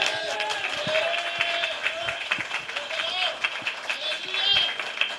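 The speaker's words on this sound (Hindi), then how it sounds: "मैं बिलव्ड खुदावन यीशु मसीह के लिए जोरदार तालियां।" Applause and cheering break out among a church congregation at an evangelistic service, a continuous mix of hand-clapping and voices carrying on throughout, with a preacher talking over the noise.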